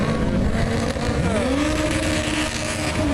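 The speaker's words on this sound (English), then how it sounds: "Look at the turbo on that thing." A turbocharged car engine runs loud and close, its pitch sliding upward as it revs and then dipping and climbing again in a steady drone.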